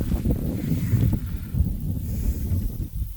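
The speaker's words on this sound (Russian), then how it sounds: "Поднялся ветер." Gusty wind buffets the microphone in low, uneven rumbles out on the open steppe, rising and falling in strength with no voices heard.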